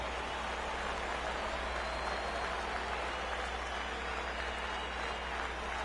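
A baseball crowd cheers and applauds in a steady, dense roar with clapping that holds evenly throughout and has no distinct peaks.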